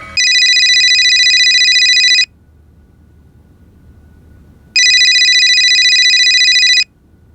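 A telephone rings in two long electronic trills separated by a pause, loud and close, with no talk over it.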